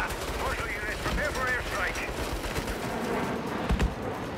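Rapid bursts of gunfire in the Saints Row video game, a run of sharp automatic shots crackling over a busy game soundscape with a few heavier thumps near the end.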